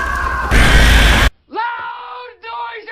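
A woman screams from a Blair Witch horror film scene: a loud, harsh burst of shrieking noise, then a short gap before strained, wavering screams and yells that break off and resume.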